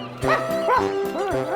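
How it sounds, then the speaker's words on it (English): A cartoon dog in an animated children's story gives three quick, high, yappy barks in a row, close and clear with short gaps between them. "If you keep barking like that, they'll find me."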